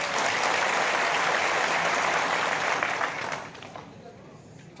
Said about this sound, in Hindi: जरा एक बार ताली जोरदार बजा दे